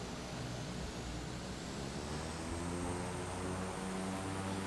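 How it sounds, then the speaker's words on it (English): A Cessna Corvalis light aircraft engine throttles up in Microsoft Flight Simulator, giving a steady droning hum with a faint hiss that grows slightly louder over several seconds, with no voices. "It does sound a little bit turboproppy, doesn't it? There's almost that hiss of a jet engine in the background."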